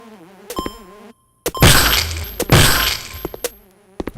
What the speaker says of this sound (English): Oh, that was a loud explosion sound.